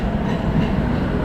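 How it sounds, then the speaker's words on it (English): An old tram rolls along a city street, a steady broadband rumble of wheels and body noise holding close and even throughout, with no voices. "Wow, super cool, the old tram."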